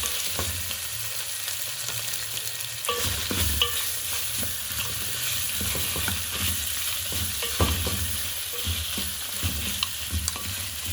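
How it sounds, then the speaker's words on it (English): Grated garlic and ginger are stirred into onions frying for East African pilau rice, a continuous sizzle with repeated scraping and clicking from the spoon, close and steady. "at this point, we can now go ahead and add our mixture of garlic and ginger"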